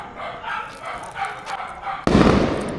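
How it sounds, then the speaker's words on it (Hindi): A dog barks rhythmically during a Karva Chauth celebration, then a firecracker bursts with a sudden loud crack followed by a crackling rumble. "वो बम फूट गए भैया चंदा मामा की खुशी में।"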